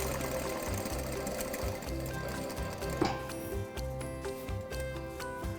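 Sewing machine stitching a fabric scatter cushion with a frilled edge, running in a steady low mechanical whir with rhythmic stitching pulses and brief stops, close and moderately quiet, with no talking.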